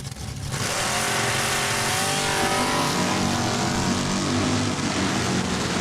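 A drag race car, the Malibu Beast, roars continuously and loud down the quarter-mile strip at Saskatchewan International Raceway, the engine note climbing steadily as it accelerates away.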